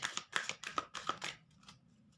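Tarot cards shuffled and drawn by hand, a quick run of crisp riffling flicks and soft slaps close up, then fading to quiet near the end.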